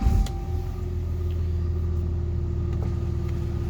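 A manual-transmission truck engine turns over with a short burst, then settles into a steady, close, low idle rumble with a constant hum that continues uninterrupted.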